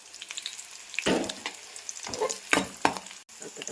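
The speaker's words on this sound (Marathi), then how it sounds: "हे बनवणार आहे भेंडीची भाजी" Okra (bhindi bhaji) frying in a pan, a soft sizzle broken by several scraping stirs of the pan at irregular intervals, close and fairly quiet.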